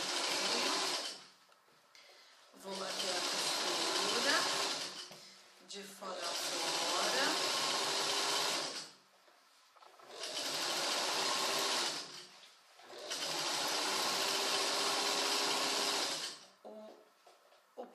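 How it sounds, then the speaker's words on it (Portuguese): A sewing machine stitches the outer seam of a trouser leg in five long, steady bursts separated by short pauses, close and fairly loud, with faint voice sounds in the gaps. "Vou bater a costura de fora"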